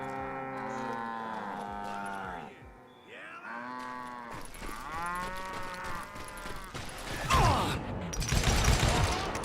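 Cattle in a cowboy video game moo repeatedly in long, drawn-out lowing calls that overlap one another, followed by a burst of gunfire and noisy game action toward the end.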